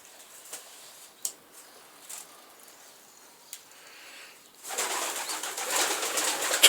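Pigeons coo faintly in a breeding loft amid quiet scattered taps, then a louder, steady rustling wash takes over for the last couple of seconds, with no talking.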